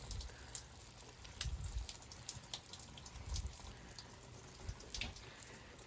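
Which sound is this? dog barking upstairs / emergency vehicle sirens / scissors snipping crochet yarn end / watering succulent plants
watering succulent plants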